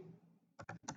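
Rapid keystrokes on a computer keyboard, a few quick clusters of clicks close up, entering a status into a leave-request process design tool, alone after a brief quiet stretch.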